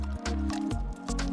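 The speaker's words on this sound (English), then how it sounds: "Break in an egg and mix well." Butter, sugar and an egg being mixed by hand in a bowl for chocolate tart pastry give soft, wet squishing strokes in a steady rhythm, close and fairly quiet.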